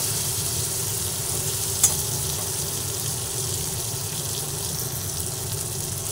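Chopped tomatoes with onion and garlic fry together in a pan, a steady, fairly loud hiss and bubble with one small sharp click partway through.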